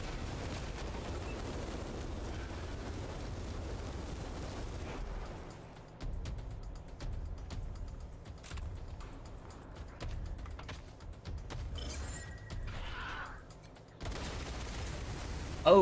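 Submachine gun fire in the Wasteland video game: bursts of shots and sharp pops come in clusters against quieter stretches, fairly loud with no voices.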